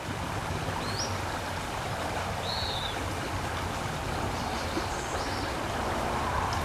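Creek water flows steadily beneath a log in a covered woodland area, a continuous broadband rush with faint bird chirps in the distance.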